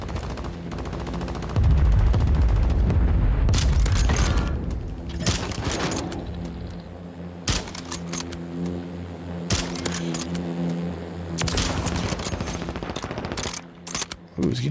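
Gunfire in the video game Warzone: repeated bursts of rapid shots and sharp single cracks, with a loud heavy stretch early on, then scattered volleys and pauses across the clip.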